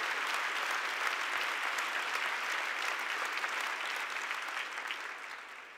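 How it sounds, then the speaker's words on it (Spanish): A church congregation applauds at a Spanish-language service, producing dense, steady clapping from a full room that holds loud and even before easing off slightly toward the end. "Cuando da un aplauso al Rey de Reyes"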